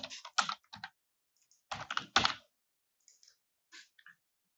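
Typing on a computer keyboard, two short bursts of rapid close key clicks separated by a pause, followed by a few scattered single taps, no talking.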